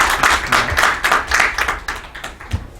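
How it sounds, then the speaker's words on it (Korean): A symposium audience in a hall claps to welcome the first presenter, a law professor. The scattered claps come in a loose rhythm and are fairly close, thinning out toward the end. "여러분들 큰 박수로 환영해 주시기 바랍니다."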